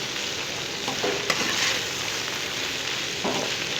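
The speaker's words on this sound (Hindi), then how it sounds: "फ्राई करते रहिए जब तक ये पूरी गोल्डन नहीं हो जाती।" Okra frying in hot oil until golden and crisp, a steady close sizzle with occasional stirring scrapes, with no voices.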